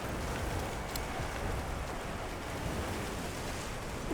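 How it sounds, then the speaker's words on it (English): Heavy rain pours down in a downpour in the video game Monster Hunter Wilds, a dense, steady broadband hiss that stays loud and even for the whole stretch, with no voices over it. "The rain's really coming down."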